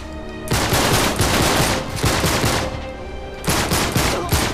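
Sustained machine gun fire in Uncharted 3, loud rapid bursts with a short gap near the start and a brief lull before resuming near the end.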